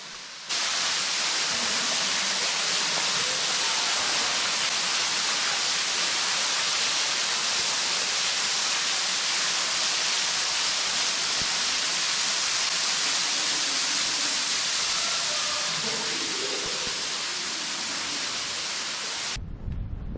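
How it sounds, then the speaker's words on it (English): A waterfall at the end of a wooded hiking trail in Hocking Hills State Park, Ohio, roars as a steady, loud broadband rush of falling water, unbroken for the whole stretch and heard alone without voices. "I can hear the waterfall."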